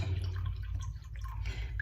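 Chicken broth pours onto dried brown rice in a pot, making a soft, steady liquid trickle with faint drips over a low background rumble.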